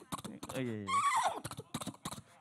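A voice imitates a horse neighing, a rising, quavering whinny squeezed in between brief bits of talk.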